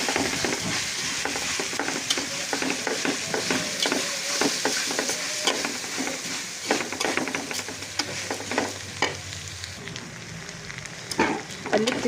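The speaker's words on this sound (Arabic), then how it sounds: "هننزل بالبصل بتاعنا والفلفل السبايسي المبشورين وطماطم، وهنديها تقليبه كده" Grated onion, spicy peppers and tomatoes fry in hot oil with a dense, crackling sizzle, while a spoon scrapes and stirs them in frequent rhythmic strokes, close and fairly loud throughout, with no voices.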